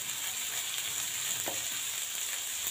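Onions hit hot ghee in a pan while cooking stuffed karela fry, giving a quiet, continuous hiss with one small pop midway.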